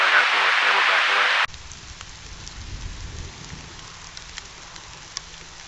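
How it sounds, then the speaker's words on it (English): Rain falls outdoors at a Michigan deer bow-hunting camp. A dense, loud hiss of rain lasts about a second and a half, then cuts abruptly to a faint outdoor background with scattered drop ticks. "it's starting to rain again"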